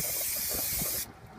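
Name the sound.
spraying brake cleaner onto new brake parts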